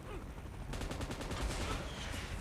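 Automatic gunfire in PUBG Mobile, a rapid burst of shots that sets in abruptly over a steady background rumble and continues at a quick, even rhythm.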